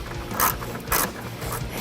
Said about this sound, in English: you're going to loosen the bolts that are securing the stock airbox down to the vehicle